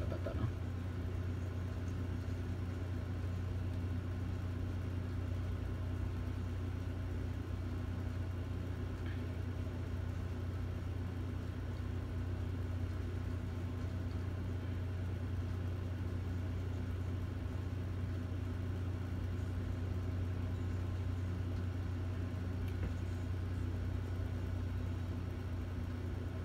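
A racing car engine on a lap in a Cars video game drones steadily and loudly throughout, a constant mid-pitched hum with no breaks and no voices.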